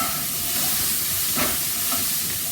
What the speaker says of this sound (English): So I use 2 spatulas and give it a stir here.